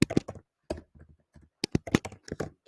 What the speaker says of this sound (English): Sorry, my keyboard.